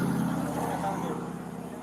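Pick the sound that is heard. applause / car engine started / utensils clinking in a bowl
car engine started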